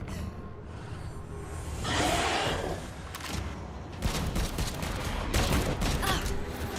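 Bursts of weapon fire and whooshing impacts from a video game trailer, a loud swell followed by sharp repeated shots over a rumbling game soundtrack, fairly close and dense.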